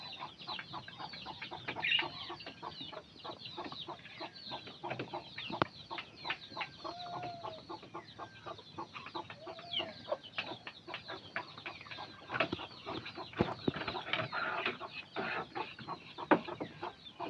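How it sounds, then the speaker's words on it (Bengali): Chickens and a hen with chicks clucking in a yard, with repeated soft clucks and short calls scattered throughout, fairly faint and steady, amid light rustling and background noise. "ওই জায়গায় আর একটা মুরগি আছে"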